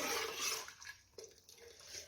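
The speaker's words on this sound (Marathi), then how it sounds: "यामध्ये गरम पाणी टाकून घेऊया" Hot water poured from a glass into a cooking pot for spicy mutton head curry, a short splashing gush that trails off into a few faint drips and trickles.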